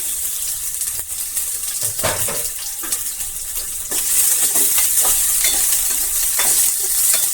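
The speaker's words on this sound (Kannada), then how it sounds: "ಫ್ರೈ ಆಗಲಿ" Chopped onions sizzle in hot oil in a pan, a steady frying hiss with occasional stirring scrapes, growing louder and brighter partway through, with no talking.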